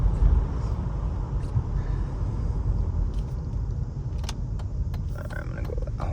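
A classic Mercedes convertible drives along with a steady, loud low engine rumble and wind noise throughout, the pitch holding fairly even as the car settles into second gear, with a few faint rattles and clicks near the end.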